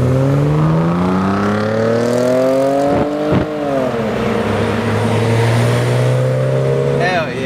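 A tuned car at the H2Oi 2019 car meet revs loudly and steadily, its engine pitch climbing and holding with a couple of sharp throttle blips midway, while onlookers talk and cheer over it.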